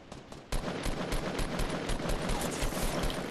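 A long stretch of dense, rapid automatic gunfire in Fortnite starts abruptly after a brief quiet moment and keeps hammering loudly with sharp overlapping shots.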